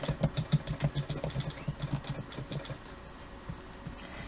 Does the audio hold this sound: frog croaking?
no